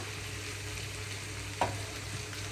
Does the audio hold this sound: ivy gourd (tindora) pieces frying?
yes